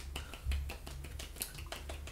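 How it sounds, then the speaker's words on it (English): A series of crisp jazz snaps, about ten evenly spaced finger snaps, close and fairly loud with nothing else behind them. "I do snaps. I do jazz snaps."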